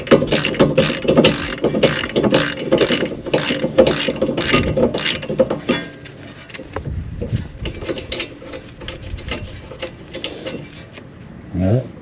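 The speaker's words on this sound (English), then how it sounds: "with a 17mm socket attached to a half drive ratchet, you want to go ahead with the caliper bolts" A half-inch drive ratchet with a 17mm socket clicks rapidly and steadily while removing brake caliper bolts on a 2008 Honda Civic, loud and close for about six seconds before slower, quieter ratcheting with a brief voice.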